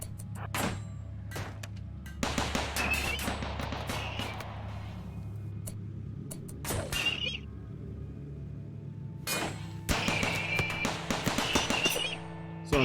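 Turret gunfire in the RimWorld video game comes in sharp rattling bursts of rapid shots with quiet gaps and a low background hum between volleys.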